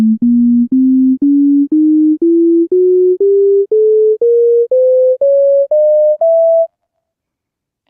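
Thirteen steady sine-like tones step upward one after another in an evenly divided Bohlen-Pierce scale spanning a 3-to-1 frequency ratio, each note about half a second long, clean and loud, followed by silence.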